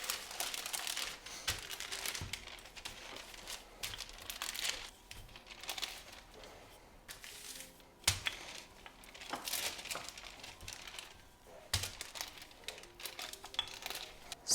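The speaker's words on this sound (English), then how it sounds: "I'll just add another sheet of baking paper, non-stick paper, and I can gently flatten it" Non-stick baking paper crinkles and rustles continuously as a sheet is laid over a paleo vegan bar mixture and pressed flat, with frequent crackling bursts and soft thuds, close and moderately quiet.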